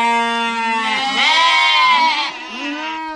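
A sheep bleating in a long, wavering, nasal cry that dips and rises twice over a few seconds, loud and close with no other sound.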